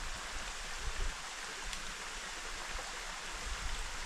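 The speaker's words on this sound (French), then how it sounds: "traversons l'affluent dont le débit est étonnamment plus faible que d'habitude" A river tributary flowing at an unusually low level, a steady close wash of running water with no breaks, a soft rushing hiss across the whole few seconds.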